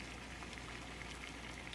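Dense, even bubbling and hissing of water at a rolling boil, constant and fairly close, with no voices.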